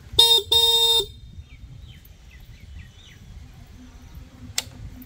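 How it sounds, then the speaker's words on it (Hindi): Two short, loud honks of a Hero Splendor Plus XTEC motorcycle horn at the start, followed by quiet background with faint chirps and a brief click. "ये इंडिकेटर और कुछ इस तरह का हॉर्न मिलता है इसमें आपको"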